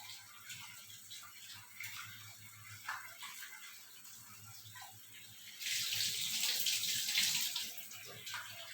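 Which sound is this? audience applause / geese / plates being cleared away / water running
water running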